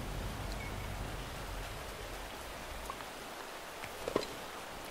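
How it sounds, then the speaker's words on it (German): Steady rain falls in a jungle setting within a video game, a soft even hiss of drops with a few faint ticks and a small splash near the end, no voices. "Schön, wie das regnet, na?"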